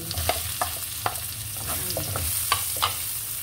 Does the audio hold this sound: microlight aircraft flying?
no